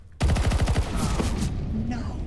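Rapid automatic gunfire in CS:GO, a close, loud burst of about a dozen quick shots that fades into a softer tail.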